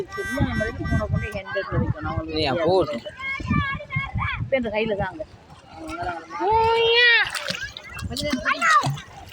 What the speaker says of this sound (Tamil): தண்ணியில் அப்படியே துடிச்சு விளையாடிட்டு இருந்தாங்க.